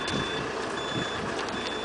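A steady series of backup beeps from a reversing vehicle, sounding over low engine and road rumble, fairly close and even in rhythm across the short stretch.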